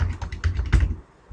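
Typing on a computer keyboard while entering a name into an Excel drop-down box, a quick close run of about eight key clicks that then stops.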